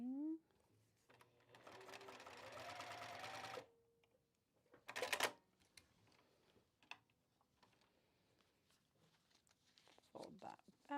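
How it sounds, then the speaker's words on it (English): A sewing machine stitches fabric in a steady whirring run of about three seconds, followed later by brief rustling and handling noises, with a person speaking quietly nearby. "Sewing."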